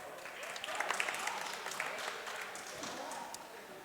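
Pub quiz crowd gives a short round of applause for two teams, a brief burst of clapping that swells and fades at moderate distance.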